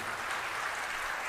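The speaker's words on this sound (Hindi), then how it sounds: "तालियों के साथ उनका आदर" Audience applause honoring a guest at a Hindu religious discourse, a steady dense wash of clapping from a crowd that fills the whole moment without pause.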